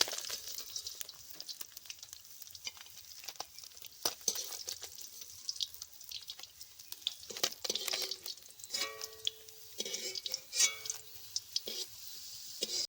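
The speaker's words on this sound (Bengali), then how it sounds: "বাকি মাছগুলো এই তেলে ভেজে নিচ্ছি" Mixed fish fry in oil in a home kitchen, a faint crackle at a distance broken by sharper pops and spatters, with no talk.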